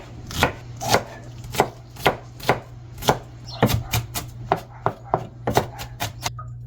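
A knife chops vegetables such as garlic and onion on a cutting board for pork and beans, with a steady run of sharp, close, loud chops at a regular rhythm and no talking.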